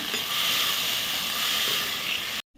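Field beans (val) sauté in a pan over a cumin, asafoetida and turmeric tempering, giving a steady, close sizzle and hiss that runs unbroken before cutting off abruptly near the end.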